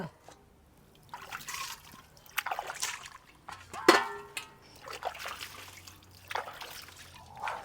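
Prawns being rinsed by hand in water, with soft trickling, splashing and sloshing in irregular bursts at close range, briefly louder around the middle, with faint background sounds between.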